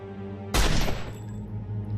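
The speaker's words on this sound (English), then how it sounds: "that's a good hit from the needle gun" A needle gun attack lands in Marvel Avengers Alliance Redux beta: one sudden loud blast that rings and fades over about a second, over a steady low game hum.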